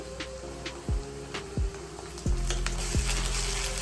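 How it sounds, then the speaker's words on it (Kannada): Ginger garlic paste frying with onions in a pan for chole, a steady sizzle with several sharp metallic clinks of a spoon against the pan, no voices. "ಜಿಂಜರ್ ಗಾರ್ಲಿಕ್ ಪೇಸ್ಟ್ ಹಾಕಿದ್ಮೇಲೆ ಅದೊಂದು ಹಸಿ ಸುವಾಸನೆ ಹೋಗೋ ತನಕ ಒಂದು 2 ನಿಮಿಷ ಫ್ರೈ ಮಾಡ್ಕೋಬೇಕು"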